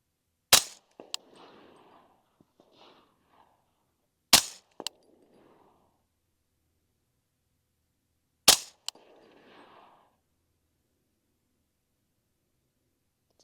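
Three loud, sharp rifle shots from an LWRC M6A3 DMR on a shooting range, each about four seconds apart, followed by brief echoing clatter and then near silence.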